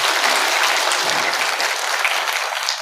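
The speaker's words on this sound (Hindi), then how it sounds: "जोरदार ताली बजाकर का सम्मान।" An audience claps loudly at a Buddhist gathering in India, with steady dense applause lasting throughout and no talk over it.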